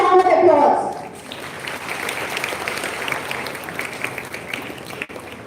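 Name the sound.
audience applause welcoming guests on stage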